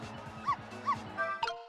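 A dog barks in the Ghost Trick: Phantom Detective video game, with a few soft, yipping electronic barks over a steady looping game melody.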